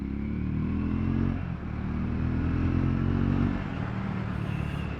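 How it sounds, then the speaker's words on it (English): A Triumph Scrambler 400X motorcycle engine, a loud, steady low drone with rising and falling revs, heard up close while riding, without talk. "Such a nice bike, easy to ride, comfortable, sounds great."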